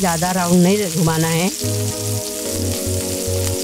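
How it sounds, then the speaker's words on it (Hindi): Water chestnut flour sev sizzling and frying in hot oil, a steady bright crackle running throughout beneath someone speaking briefly at the start, with faint low clinks near the end. "तेल गर्म हो चुका है, इसी में हम साँचे को गोल राउंड करके घुमा के सेव डालना है।"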